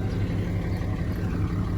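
A pickup truck's engine idles with a steady low rumble, fairly quiet and even throughout, with no talking over it.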